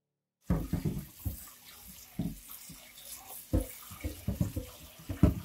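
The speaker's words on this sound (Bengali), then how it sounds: "এখন ডাল ধুয়ে দাও" Lentils are washed under a running kitchen tap, with water gushing and splashing in a sink and grains being swished by hand, giving a continuous, close stream broken by irregular sloshing bursts.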